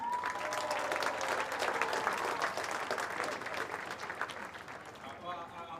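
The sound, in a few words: stadium crowd applauding and roaring for athletics sprinters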